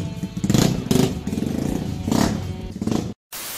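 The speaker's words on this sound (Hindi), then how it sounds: "ये खड़ी है हमारी बाइक, और हमने एग्जॉस्ट डलवा दिया है" Motorcycle with a newly fitted exhaust idling and revving at a roadside bike shop, a steady close engine rumble with a few surges and a brief dropout near the end.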